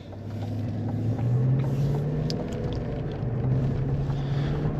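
A 2024 GMC Sierra 1500 Elevation with the 5.3L V8 accelerates, a steady low engine drone heard from inside the cab under road and wind noise, the pitch rising gradually.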